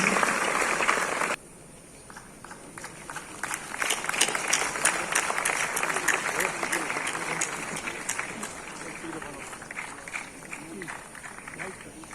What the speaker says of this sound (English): Ladies and gentlemen, put your hands together for Fuchada Pranab Roy